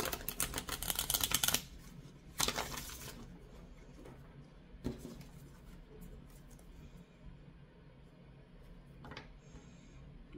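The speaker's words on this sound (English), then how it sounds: "let me just shuffle this deck here" A deck of cards being shuffled by hand, heard as a few loud rustling riffle bursts near the start, then quieter, scattered flutters over a low background hum.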